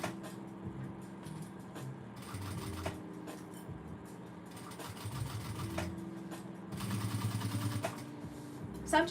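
A sewing machine stitches red vinyl for a tote bag in bursts of rapid mechanical chatter, with pauses between runs and a longer, louder stretch near the end, close and clear.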